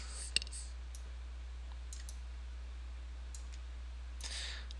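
Mouse clicks while working in Maya 2012 software, a few sharp, isolated clicks spaced across a quiet stretch over a steady low hum, close and faint.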